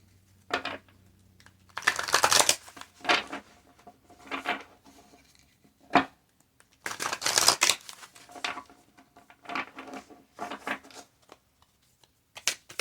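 Tarot cards are shuffled in several quick riffling bursts, close and crisp, separated by short pauses and light handling noises.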